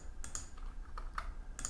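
Soft, scattered keystrokes on a computer keyboard, a handful of light taps heard faintly against low room noise.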